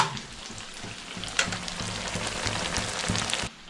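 Food roasting in a pan over a full gas flame for a breakfast snack, a steady close sizzle and crackle with a few scraping stirs, no talk.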